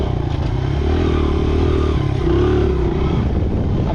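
A small motorbike engine runs close by, a loud, rough, continuous drone that rises slightly as it revs, with some clattering.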